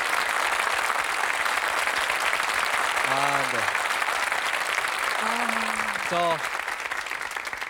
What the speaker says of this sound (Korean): 건강하시라고 저희 큰 박수 한번 보내주시겠습니까?